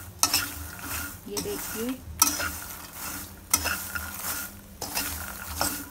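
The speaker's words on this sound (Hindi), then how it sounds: "अब हम बस एक मिनट और पकाएंगे। हमारे मसाले से मखाने कोटेड हो चुके हैं" A spoon scrapes and stirs makhana (fox nuts) coated in spices as they roast in a pan, making a soft dry rattle and sizzle with regular stirring strokes. A voice speaks briefly at one point.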